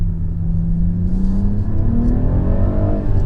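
A BMW M340i G20 with a 3-litre inline-six pulls hard while rolling in gear, its loud, steady engine note rising in pitch over a few seconds with no talk.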